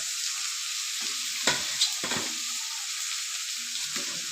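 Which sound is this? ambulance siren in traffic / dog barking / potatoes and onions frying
potatoes and onions frying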